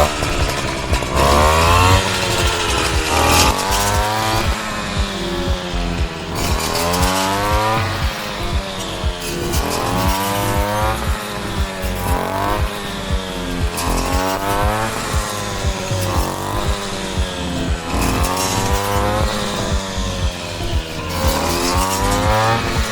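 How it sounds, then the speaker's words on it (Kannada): A paddy harvesting machine cuts a field of ripe rice with a loud, continuous engine roar whose pitch keeps rising and falling in repeated waves as it works through the crop. "ಸ್ಟಾರ್ಟ್ ಮಾಡಿದ್ರೆ ಈಗ ಮಿಷನ್ನಲ್ಲಿ ಈಗ ಕಟಾವ್ ಸ್ಟಾರ್ಟ್ ಮಾಡ್ತಾರೆ"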